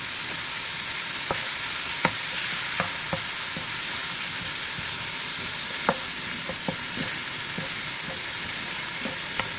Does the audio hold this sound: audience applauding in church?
no